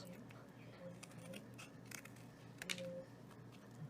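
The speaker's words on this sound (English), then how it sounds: "cut out around it and then trim away approximately 1/4 of an inch outside the lines" Scissors snip through a cereal box ornament in short, quiet, irregular cuts, close up, with faint background noise between snips.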